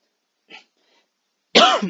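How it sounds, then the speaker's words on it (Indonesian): A man gives a single sharp cough, loud and close, preceded by a faint brief throat sound in an otherwise quiet room. "Sorry, batuk."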